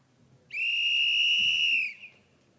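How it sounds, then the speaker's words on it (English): A single loud, clear referee's whistle blast at a STIHL Timbersports rookie competition, held steady for about a second and a half and then cut off, with faint background crowd noise. "Warm-up whistle."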